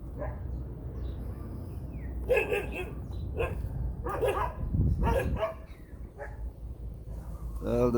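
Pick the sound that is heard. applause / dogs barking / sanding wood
dogs barking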